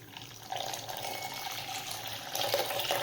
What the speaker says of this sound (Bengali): সুজিটা প্রথমে একটু জল দিয়ে আমি ভিজিয়ে নেব।